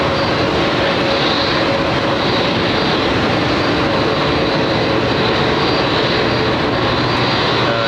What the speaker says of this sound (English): JetBlue A321 heading all the way across the Atlantic